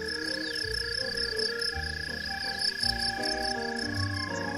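Crickets or katydids chirp and trill steadily on a summer night, a dense, continuous insect chorus with faint low croaks beneath it and no voices.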